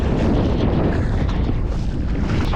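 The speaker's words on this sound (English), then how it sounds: "A little bit gusty here by the shore" Gusty wind buffets the microphone on a Caribbean shore, a loud continuous low rumble with rough surging texture throughout and no voices.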